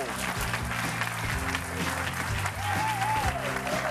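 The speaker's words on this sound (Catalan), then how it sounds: "Moltes gràcies, Jair, un aplaudiment per ell, Guiquenit i Òscar Andreu." A studio audience on a Catalan TV talk show applauds steadily and loudly throughout, with background music and some voices running underneath the clapping.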